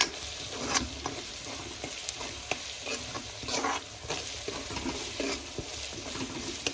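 Masala with garlic roasting in a pan for spinach and black chana, a close steady sizzle with repeated scraping strokes of a stirring spoon, alone without any voice.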